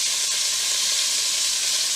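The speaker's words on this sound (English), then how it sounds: "I'm going to add it to my pot. Remember, I want fried cabbage" Chopped cabbage frying in undrained grease in a pot, a loud, constant hissing sizzle like steam, steady throughout with no voices.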